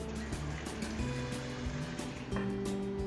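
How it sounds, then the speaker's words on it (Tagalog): Water runs hard in a hotel bathroom near Mt. Banahaw, a steady, full rushing spray that stays close and even throughout with no talking. "Malakas yung tubig dito."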